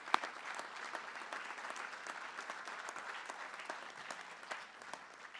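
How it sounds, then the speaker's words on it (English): Steady applause from the audience for competitors at a maritime welding competition, moderately distant and fairly quiet, with dense even clapping throughout and no talk over it. "Can we get the competitors to stand up real quick and give you a round of applause?"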